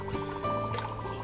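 Water pours into a guppy tank in a side yard, a continuous close splashing and gurgling stream with a faint mechanical hum beneath.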